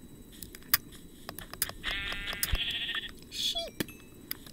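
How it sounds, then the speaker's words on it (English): A Minecraft sheep bleats once in a short, wavering call, set among scattered clicks and ticks of in-game activity, with another brief sound effect shortly after. "Sheep."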